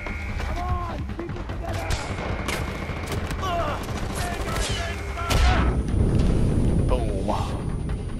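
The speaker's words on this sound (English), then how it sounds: "But we got a mortar." Mortar fire and explosions in the Far Cry 4 video game, with rapid gunfire crackling throughout and a heavier blast swelling near the end, loud and continuous with game voices and effects mixed in.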